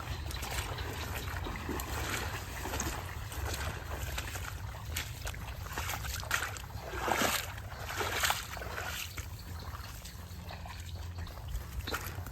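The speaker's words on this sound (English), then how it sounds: "Flows through here. It's a little creek that feeds that flag pond." Small creek flowing through swampy forest in Florida, a soft steady trickle of water with faint broadband wash, with distant low highway traffic rumbling underneath throughout.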